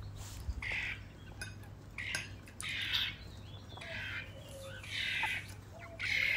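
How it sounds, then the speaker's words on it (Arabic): Chickens squawk in short, scattered bursts, about five separate outcries at a moderate distance, over a faint steady hum in an otherwise quiet space. "وأنا أحكي والدجاجات دوخوني بس يصيحون"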